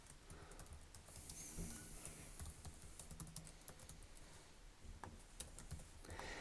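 Fingers type on a computer keyboard nearby, producing a continuous run of light, uneven keystroke clicks with no voices.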